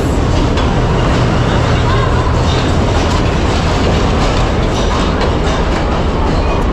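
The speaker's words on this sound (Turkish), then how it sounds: "Az kaldı. 18 dakika sonra trenimiz gelmiş olacak. Allah, geldi benimki." A train rolls loudly and steadily into a station, with continuous rumble and wheel clatter close by, and voices underneath.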